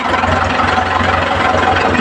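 A tractor engine idles close by, a steady low chugging rumble with even knocking pulses that holds unchanged throughout, with no voices.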